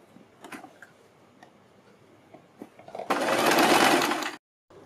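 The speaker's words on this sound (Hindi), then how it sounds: "आप हर बार इसको धागे को काट कर भी ये सिलाई लगा सकते हैं इस तरह से।" A few quiet ticks and handling sounds come before a sewing machine bursts into a loud, fast, steady whir while stitching a kurti neck, then stops abruptly.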